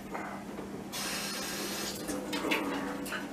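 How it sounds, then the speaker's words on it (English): Running water rinses parts of a still used for distilling mash, a close splashing hiss that swells after a second and continues with gurgles and small knocks of metal. "Now when you rinse this, make sure you only rinse that part."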